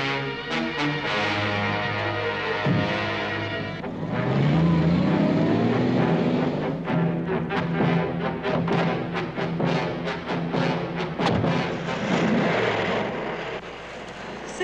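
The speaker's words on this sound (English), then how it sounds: "Sounds like my motor being revved up" Car engine from a 1965 film scene revving hard and loud, then roaring off with rising and falling engine pitch and a few sharp bursts as it pulls away.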